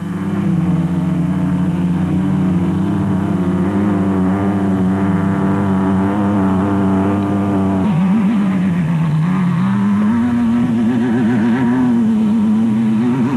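Race cars strain to climb a slippery hill at the Carnival City 400 in 2001, their engines droning loud and continuous, the pitch wavering and rising as they rev for traction.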